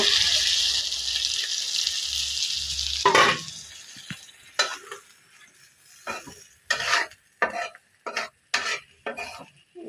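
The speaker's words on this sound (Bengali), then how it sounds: "ঝোল দিয়ে দিয়েছি আমি, এটা ঝোলটাকে একটু ভালোভাবে শুকিয়ে নেব।" Curry of eggplant and small fish simmering in broth in a pan, a hissing sizzle at first, then a series of scraping, clattering stirs with a spoon against the pan, close and fairly quiet.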